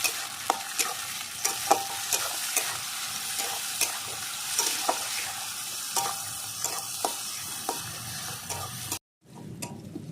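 Onions and tomatoes for Bengali chicken kosha sizzle in a pan while a spoon stirs and scrapes them with repeated sharp clacks, close and steady, before the sound cuts off abruptly near the end.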